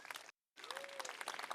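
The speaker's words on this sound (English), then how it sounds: "give them all a big round of applause" A conference audience at PyData Seattle gives volunteers a round of applause, a fairly faint, dense patter of clapping broken by a brief gap of silence.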